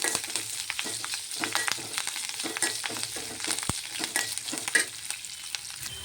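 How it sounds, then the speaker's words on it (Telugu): Ginger pieces and curry leaves fry gently in a pan over low heat, a close, steady crackling sizzle with dense tiny pops and the occasional stir, continuous and without any voice. "అలాగనే ఈ అల్లం ముక్కలు వేసుకున్నానండి. కొంచెం కరివేపాకు. దీన్ని సిమ్లో వేయించుకోవాలండి."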